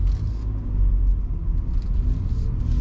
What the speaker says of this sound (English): If you have a listen to the road noise, there's not a lot of it